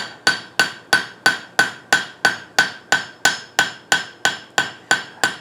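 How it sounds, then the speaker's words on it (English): Hammer blows on metal at the horn of an anvil while forging a candle holder: about fourteen evenly spaced, ringing strikes, close and loud, with no talk. "So now I'm going to use the anvil horn."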